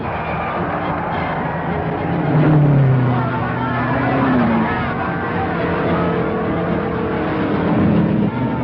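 Race cars on the last lap of a race, a broad engine roar swelling and fading as cars pass, with crowd hubbub and voices mixed in.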